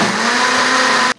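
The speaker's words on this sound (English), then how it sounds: "I'm just going to continue to use the blender" A kitchen blender whirs steadily as it purees potato and cauliflower mash, a loud continuous motor roar that holds for just over a second and then stops abruptly.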